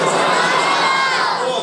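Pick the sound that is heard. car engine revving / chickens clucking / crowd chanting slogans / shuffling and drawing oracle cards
crowd chanting slogans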